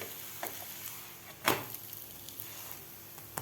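A cucumber thalipeeth roasts on a pan, giving a quiet, steady sizzle with a few soft stirring or scraping touches and one brief louder scrape near the middle.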